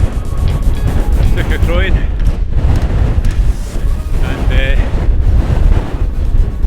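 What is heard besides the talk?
strong wind on a mountain ridge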